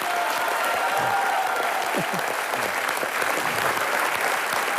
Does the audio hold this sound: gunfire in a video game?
no